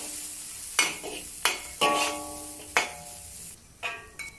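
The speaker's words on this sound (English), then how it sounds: "And continue stir frying until fragrant." Chinese sausage and dried shrimp stir-fried in a pan, with a steady close sizzle broken by several sharp scraping strokes of the spatula at irregular intervals, no talking.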